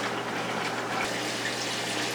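Water running from a hose into a bucket during a saltwater aquarium water change, a soft continuous splashing and trickling fill heard close by, steady throughout, with a low hum underneath.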